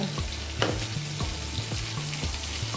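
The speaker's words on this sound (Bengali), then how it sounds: "মশলাটা থেকে তেল ছেড়ে এসছে আর একটু এইভাবে কষিয়ে নেব" Spice paste sautés in oil for a lote fish curry, giving a continuous sizzle with stirring scrapes of the spoon in the pan at a slow, irregular rhythm. No talk, just the cooking.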